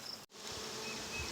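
Honey bees buzz around a swarm during beekeeping work, a dense close hum that is briefly interrupted by a short dropout and then resumes steadily.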